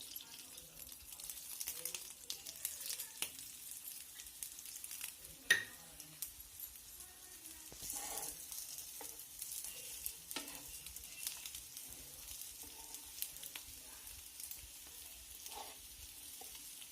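Eggplant slices frying in a little oil in a pan, giving a soft, faint sizzle broken by frequent light scrapes and clinks from turning the slices.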